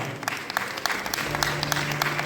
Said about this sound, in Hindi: इसलिए पद्मा पवार जी के लिए जोरदार तालियां एक बार।